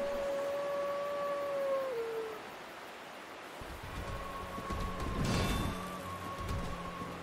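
Big dog howling in Dark Souls, a long sustained howl with a steady tone that bends downward, fairly faint over a soft noisy ambient bed, followed by a second quieter howl as rumbling game sounds swell underneath.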